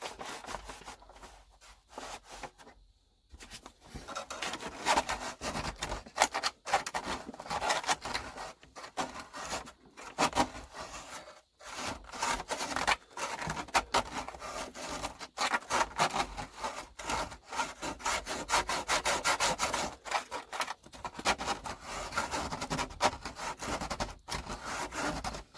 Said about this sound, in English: We're going to try to do a little more sanding.